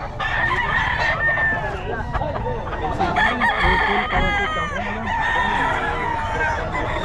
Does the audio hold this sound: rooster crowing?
yes